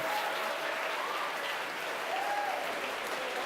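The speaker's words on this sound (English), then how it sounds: "The crowd here at headquarters cheering." A crowd at headquarters cheers and applauds through a Starlink satellite launch, giving a continuous, dense wash of clapping and cheering that holds steady throughout.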